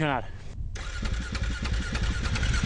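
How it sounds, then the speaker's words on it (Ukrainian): A rally motorcycle that stalled on a sandy stage is cranked back to life, a brief starter whine giving way to a rough, throbbing engine idle up close, with someone speaking over it. "Я намагався його завести знову, проте поки що це не вдається."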